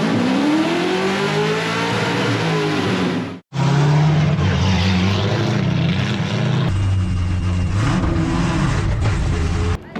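The newly mounted engine of a pro race car roars and revs hard during a track test, loud and close and almost continuous, with one brief lift off the throttle partway through.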